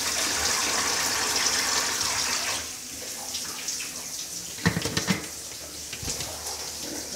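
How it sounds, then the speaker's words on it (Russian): Running water from a shower at a shared camp washroom on Seliger, a steady hiss and splash that eases off midway, followed by a few close clunks and sputters. "Вот так вот у нас поворачивается душ."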